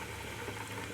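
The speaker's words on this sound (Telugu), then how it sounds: "సో పోపు వేగిపోయిందండి" Spices tempering in hot oil for a chikkudukaya (flat bean) green-chili coconut fry give a steady close crackling sizzle with fine bubbling, continuous and even through the moment, with no talk.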